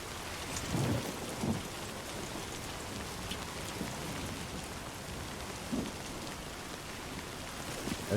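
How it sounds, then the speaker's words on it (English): Rain and thunder at night in the video game Death Stranding 2, a dense constant hiss of rainfall with several low rumbles of thunder rolling through at intervals, with no voices. "It's raining, it's nighttime."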